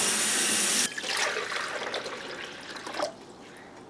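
Tap water running loud and steady over soaked almonds in a kitchen sink, then cutting off abruptly to softer splashing and trickles as the nuts are rinsed, followed by a final brief clatter.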